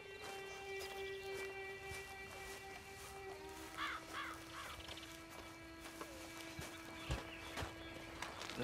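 Horse hooves clip-clop at a walking pace in the Red Dead Online video game, a steady rhythmic patter set against a tonal musical drone, with crow caws scattered over the top.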